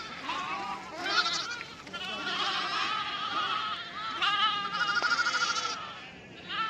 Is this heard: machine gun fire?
no